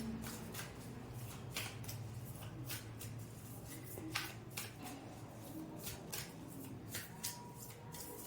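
Tarot cards being shuffled and handled in a quiet room for a love reading, with steady papery riffling and soft flicks that continue through the whole stretch, faint and close.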